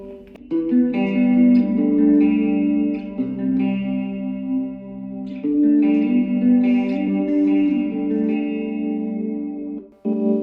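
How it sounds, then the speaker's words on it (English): Sustained electric guitar chords played through a Sonicake Amp Toast Bluetooth amp with delay and reverb, trailing echoes and a spacious reverberant wash, played steadily and loud, with no voices. "Could also kick on some delay too."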